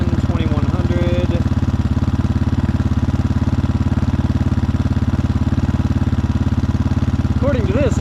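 A 2022 GPX FSE300R motorcycle idles at about 2,000 RPM on a chilly day around 50 degrees, its close, loud, steady low-pitched thrum pulsing evenly throughout, while a voice talks briefly at the start and again near the end.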